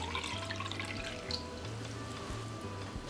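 Water runs steadily into a cooking pot while Jamaican sorrel is being prepared from dried sorrel, a continuous splashing, gurgling pour that is close and fairly loud, with nobody speaking.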